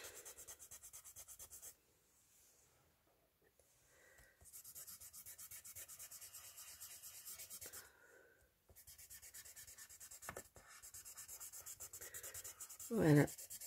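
A Posca pastel stick rubbed across textured 300 gram paper, giving a steady close scraping friction in long strokes, broken by short pauses and growing firmer toward the end.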